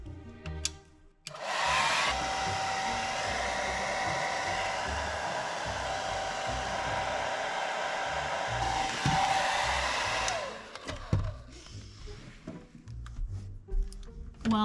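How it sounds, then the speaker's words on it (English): A hair dryer blows in a continuous loud whoosh with a thin whine for about eight seconds, switching on and off, while tinting a window in a DIY project, followed by handling noises. "Okay, we got the hairdryer."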